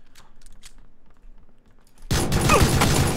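Faint scattered clicks and soft taps, then a sudden loud burst of rapid gunfire in PlayerUnknown's Battlegrounds, with an AKM in play, fills the last second.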